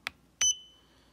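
An IRF-2SA thermometer gives a single short, clear electronic beep as its probe button is pressed, just after a soft click, close and alone with no talking.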